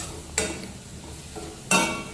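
A spoon scrapes through vegetable curry as spices are stirred in a pan, giving two sharp scraping strokes over a quiet sizzle.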